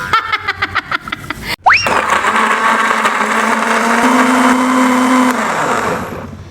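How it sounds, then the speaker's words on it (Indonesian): A blender grinding a spice paste for pangek, a young jackfruit dish, first gives a series of short rhythmic clicks and pulses. It then surges into a loud, steady whirring roar that holds and winds down at the end. "Jadi bahan halus ini di blender sampai sehalus-halusnya"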